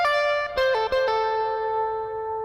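Electric guitar plays the first rotation of a song intro, a short lead phrase of several picked and pulled-off notes ending on a sustained ringing tone, clear and alone.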